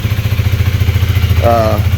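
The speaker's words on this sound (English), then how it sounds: "Little single cylinder thumper like that. That's what they sound like." A stock 2019 Honda Rebel 300 single-cylinder motorcycle engine thumps in a steady, loud, rapid pulse, with a short higher tone rising over it near the end.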